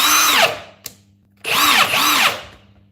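A heavy duty impact wrench fires in two bursts of rapid hammering whirr, the first short and the second longer, separated by a brief click and near silence.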